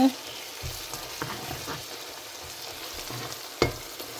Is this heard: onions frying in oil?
yes